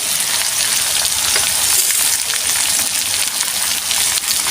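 Potatoes and radish fry together in a pan with a steady, loud, close sizzle and crackle that runs without a break, and no voices are heard.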